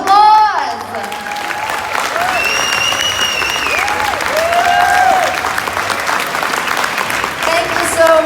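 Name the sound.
audience applause at interview panel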